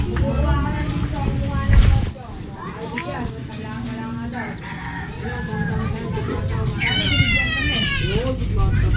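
Cats meow in a home, with several high, wavering cries rising near the end amid a person talking throughout.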